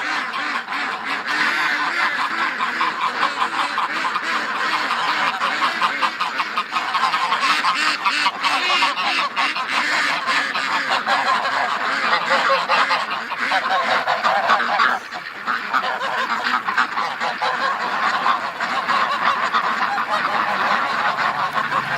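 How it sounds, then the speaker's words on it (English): A flock of ducks and geese quack and honk outdoors, loud and nearly continuous, with many overlapping calls close by throughout. "Come on out, duck."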